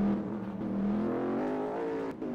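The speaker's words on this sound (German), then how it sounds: "Da sind auch noch ein paar Autos auf der Strecke." Race cars circle a track during a winter-season race, their engines droning and revving in a continuous mid-distance roar that swells slightly as they pass, with no talk over it.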